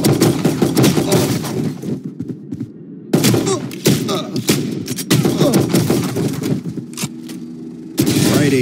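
Rapid gunfire in the video game Valorant, fired at practice targets on a laptop: sharp bursts of rifle shots in rapid runs, loud and close, separated by brief quiet gaps and quick reloading clatter.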